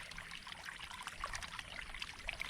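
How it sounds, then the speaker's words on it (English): Water trickles faintly through a removed and cleaned aftercooler from a Cat 3412 engine, a soft, continuous dribble with small bubbling splashes throughout. "I noticed when this is a fair amount of water coming through"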